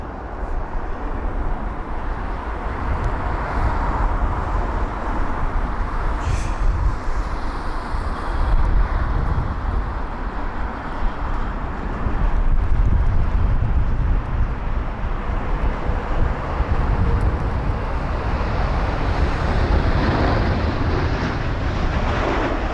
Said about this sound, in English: battling the winds is this British Airways A380.